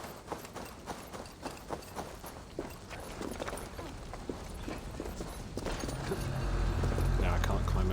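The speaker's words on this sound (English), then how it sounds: "Wait, was that a horse?" Horse hooves clip-clop in a rhythmic run through the medieval Viking world of Assassin's Creed Valhalla, beat after beat of distinct thuds beneath a player's talk, while a low rumble grows toward the end.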